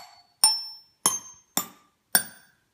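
A homemade pipe instrument played with an egg carton gives four bright, clinking metallic strikes at uneven intervals, each ringing briefly and decaying, heard close and alone.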